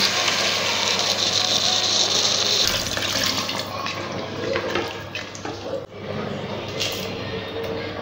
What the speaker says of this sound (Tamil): இப்போ தேவையான அளவுக்கு தண்ணி ஊற்றிடலாம்